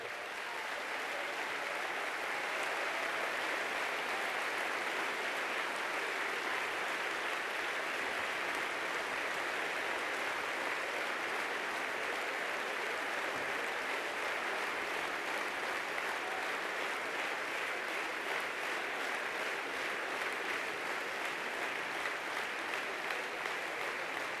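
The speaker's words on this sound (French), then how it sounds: "Et je voudrais que vous les applaudissiez tous ces colistiers." A crowd at a French Communist Party campaign meeting applauds the European election list candidates with long, even, continuous clapping in a hall. It sounds somewhat distant and holds steady for over twenty seconds without speech.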